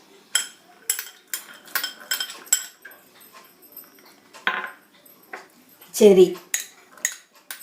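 A metal spoon clinks repeatedly against a bowl while mixing candied fruit, dates, black raisins, almonds and cashews for a fruit nut cake, sharp near scrapes and taps in an uneven rhythm, with a brief spoken word.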